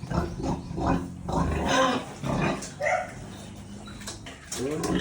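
Pigs on a farm give loud grunts and squeals in close, overlapping bursts, with people talking faintly in the background.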